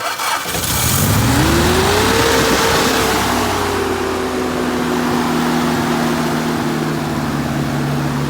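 After a brief crank, an engine catches and rises into a fast, high idle, then holds a steady loud hum close by with no voices.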